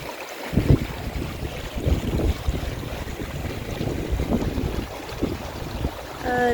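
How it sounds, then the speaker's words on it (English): During a storm on a Portugal homestead, floodwater pours out of a pond between rocks, making a steady rushing roar that fills the whole clip, with heavy outdoor wind buffeting the microphone and no talking. "The water's pouring out of the pond between them rocks"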